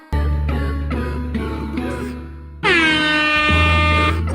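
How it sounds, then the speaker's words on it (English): A loud, blaring air horn with a sustained brassy tone, sounding in several short repeated blasts and then one long held blast. "play the air horn sound effect"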